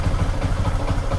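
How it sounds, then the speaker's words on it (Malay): A Yasuku motorcycle engine idles after repair, a close, steady low putter with a regular pulsing rhythm and no talk. "Alhamdulillah, dah pun hidup motor dia ni"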